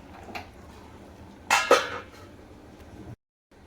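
A pot lid is set down on a pan of cooking millet coconut khichdi, giving two quick close clanks of metal on metal in a quiet kitchen before the sound cuts to silence.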